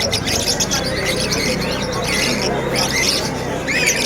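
Red factor canaries chirp and warble at a busy Malabon pet market, many overlapping bright tweets and trills over constant crowd murmur and people talking nearby.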